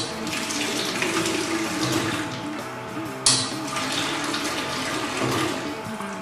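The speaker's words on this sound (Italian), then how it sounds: "Schiacciando questo tasto ci permette di far uscire dell'acqua che va a lavare completamente il rubinetto della parte interna in questo modo." Water runs steadily from the rinse function of an INNOVA FLU 70 pasteurizer, washing its internal tap in a continuous close-up gush with a brief clunk midway, with no speech.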